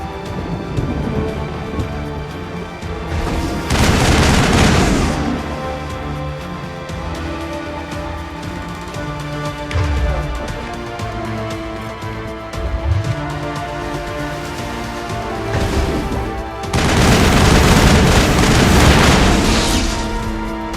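Heavy booming explosions from strikes in the Mass Effect video game, two long loud blasts several seconds apart over a constant battle soundscape with music and scattered impacts.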